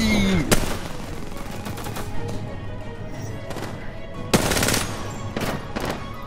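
Rapid automatic gunfire in Apex Legends, loud bursts of shots with a sharp heavy blast near the end, over game effects and a few faint voices.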